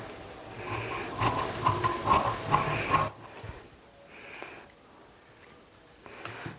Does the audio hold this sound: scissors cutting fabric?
yes